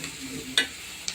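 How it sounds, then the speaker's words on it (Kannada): Onions and tomato fry in oil for egg biryani, giving a quiet steady sizzle broken by a sharp scrape and a fainter clink. "ಎಣ್ಣೆಯಲ್ಲಿ ಹಾಕಿ ಹೀಗೆ ಸಣ್ಣಾಗಿ ಫ್ರೈ ಮಾಡಬೇಕು."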